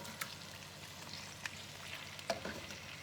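Chicken thighs brown skin side down in a pan with a quiet, steady sizzle and crackle, broken by a few soft clicks and bumps from a utensil.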